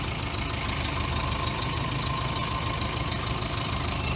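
A Subaru 1.8 litre overhead-valve boxer engine idling roughly from cold with the bonnet off, a loud, steady, close-up mechanical drone with a faint uneven knock and vibration, alone without talk.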